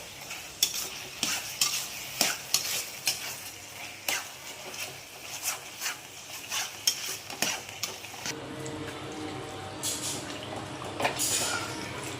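Bread halwa soaked in sugar syrup and milk is mashed in a pan, repeated wet squelching strokes and scraping in a loose rhythm, followed by a softer steady sizzle.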